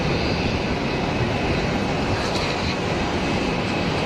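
An Air Algérie Boeing 737-800 departs runway 04 at Geneva Airport, a steady broad jet roar sustained throughout, loud and continuous with no voices.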